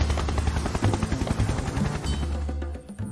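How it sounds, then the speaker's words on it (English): A Huey helicopter's rotor blades thump out a rapid, rhythmic popping beat over a heavy low engine drone, loud and continuous, heard on its own without voices. "The rotor blades make a popping noise that you can hear from a long way off."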